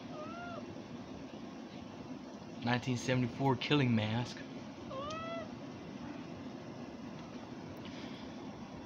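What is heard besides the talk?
cat meowing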